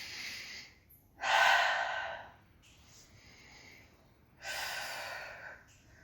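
Two audible breaths during a dynamic stretching warmup, each a soft, airy inhale or exhale lasting about a second, set apart by a quiet pause against a faint background hum.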